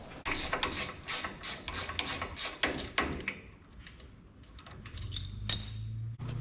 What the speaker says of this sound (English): you put a 14mm ratchet spanner, 5mm Allen key, and hold it while you undo the nut